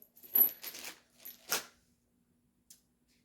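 Metal bolts for assembling a two-tier nightstand tip out and clink together in a quick burst of several rattling hits, then one lone clink after a short pause, close and fairly clear.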